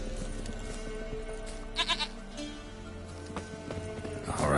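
Goat bleats and hoof clip-clop in The Witcher 3 game, a couple of short bleating bursts over steady in-game ambience and music, moderately close.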